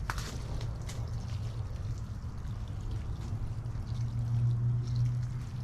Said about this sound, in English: I'm gonna just start pouring this in. There is no rhyme or specific way, you just pour.